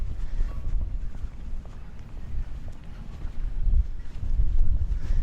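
Wind buffets the microphone outdoors in overcast San Francisco, a low rumbling roar that rises and falls in gusts, growing stronger toward the end.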